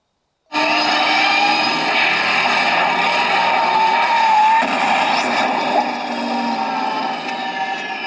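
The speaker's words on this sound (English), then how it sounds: "The flux capacitor is going to light up and play the sound effect" Flux capacitor time-travel effect from a Back to the Future replica car, a dense swelling electronic whoosh with layered humming tones that starts abruptly and sustains loudly for several seconds before easing slightly, with no talk.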